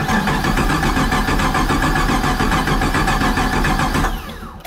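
A car engine with a freshly reinstalled starter cranks after a transmission swap, giving a loud, rapid pulsing churn for about four seconds before it cuts off abruptly.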